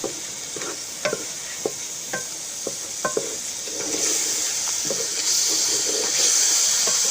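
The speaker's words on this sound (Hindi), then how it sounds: "थोड़ा सा पानी का छींटा लगा लेना है, ताकि जो है मसाले हैं ना जले नहीं।" Spices sizzle in a pan while a spoon stirs, leaving several sharp scrapes and taps over a low sizzle. Partway through, a splash of water hits the pan and the hiss swells and brightens.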